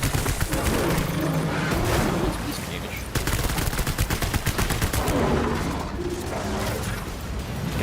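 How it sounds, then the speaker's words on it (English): Rapid bursts of gunfire from hematic bullets in the video game Death Stranding, dense repeated shots running through the whole stretch amid game noise, with a voice talking over it. "Hematic bullets!"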